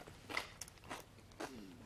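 Crunchy young radish kimchi (yeolmu kimchi) is bitten and chewed close up, three or four short, crisp crunches spaced apart in a quiet room.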